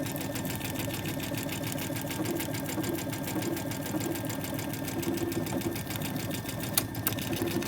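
A Brother Dreamweaver XE embroidery machine stitches out lettering, a steady close mechanical whirring and rapid needle clatter running continuously with a couple of brief clicks near the end.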